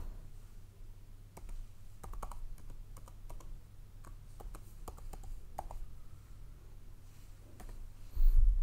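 Someone types a system password on a computer keyboard in a quiet room, with a string of close, light key clicks at an uneven pace over a low steady hum, then a final louder thump, and no voices.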